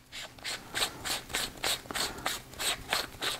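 A metal front piece on an Odepro KL41 Plus hunting light is turned by hand. It gives a quick, even run of small ratcheting clicks, close up and quiet, with no talking.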